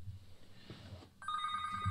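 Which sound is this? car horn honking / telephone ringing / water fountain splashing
telephone ringing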